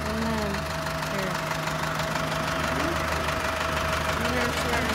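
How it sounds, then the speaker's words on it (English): Farm tractor engine idling with a steady low knocking rumble, close and continuous with no talk. "right now I'll show you the tractor. It's right there."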